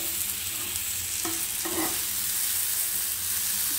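Food fries in a pan with a soft, steady sizzle, broken by a couple of brief stirring scrapes near the middle.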